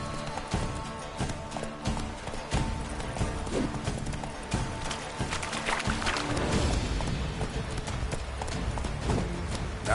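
Hooves of the horse Roach galloping in The Witcher 3, a steady run of clip-clop beats close up, with light game ambience around them.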